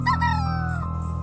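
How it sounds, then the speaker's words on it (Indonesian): A rooster crows once at six in the morning, a loud, close, drawn-out call that falls in pitch and trails off, heard alone. "Suara ayam berkokok dan kicauan burung sudah terdengar."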